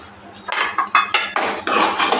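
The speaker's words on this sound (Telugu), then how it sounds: "ఇంకా ఇట్లా ఫ్రై చేసుకోవాలి" Lentils and coriander seeds frying in a pan, with a run of sharp metallic clinks and scrapes from a spoon stirring against the pan, close and fairly loud, with no talking.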